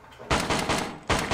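Sniper gunfire in the VR game Death Horizon: Reloaded: three loud, broad cracking bursts, the first two close together and the third after a short pause, with no talk over them.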